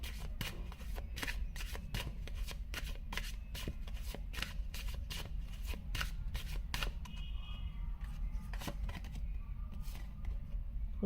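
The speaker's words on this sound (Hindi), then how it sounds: "इस डेक से एक कार्ड देखते हैं निकाल कर क्या आता है।" Tarot cards being shuffled and drawn from a deck, a steady run of sharp, papery riffles and flicks close by, alone without talk.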